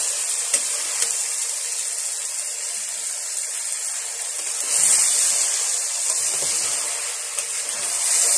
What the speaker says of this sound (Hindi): पहले अदरक लहसुन और चिकन को अच्छी तरह भूनना है अपने।